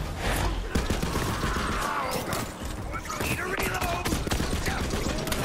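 Rapid gunfire rattles through a Borderlands 3 firefight, dense overlapping shots and game effects mixed with voices talking over the action.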